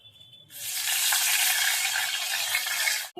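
Onion, tomato, chili, ginger and garlic hit hot oil in a pan for fish gravy, bursting into a loud, steady sizzle that holds for nearly three seconds before cutting off abruptly.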